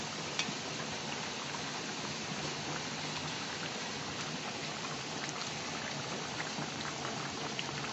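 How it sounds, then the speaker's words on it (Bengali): Boiled eggs simmer in a pot of chicken curry, giving a soft, continuous bubbling and gentle liquid burble, fairly faint and steady with no voices. "এটা দিয়ে কিছুক্ষণ ফুটবে"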